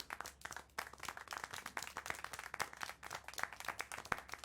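Applause in the video game Syberia: The World Before, a faint steady patter of many hands clapping at an even pace throughout, with no talk.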